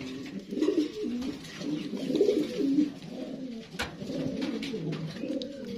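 Caged pigeons coo in repeated low, throaty bursts, fairly close, with a quiet background of faint rustling and no talking.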